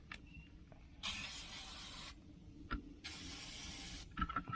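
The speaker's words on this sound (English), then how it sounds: "All right, let's spray some. Put some slickum on it." Liquid Wrench penetrating oil sprayed from an aerosol can onto bolts on an old army truck, two long close hissing bursts of about a second each separated by a pause, with small clinks and handling noises around them.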